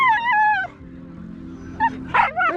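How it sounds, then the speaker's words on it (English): A dog whimpers in high, wavering whines, then lets out a couple of short sharp yips near the end, close and fairly loud over a low rumbling background. "This dog is so drunk."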